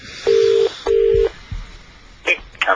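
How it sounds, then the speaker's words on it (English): A phone number is dialed in a radio studio: two long touch-tone beeps come first, then a pause and a few shorter tones, loud and close, with no voices. "So we got this number which we'll call up"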